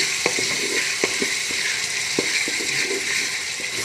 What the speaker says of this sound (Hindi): ये अदरक लहसुन डाल दिया हमने। अभी हम इसको थोड़ा भूनेंगे।